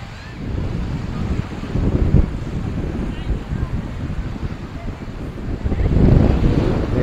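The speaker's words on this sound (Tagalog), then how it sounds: "Medyo malakas din ng hangin na para lalong maganda panahon." Strong wind buffets the microphone at Chelsea Beach, a continuous low roar with gusts swelling louder near the end, mixed with surf and distant voices.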